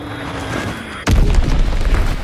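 A Fritz X bomb goes off in a video game, a loud, deep boom that hits midway and rumbles on above a steady background of in-game noise.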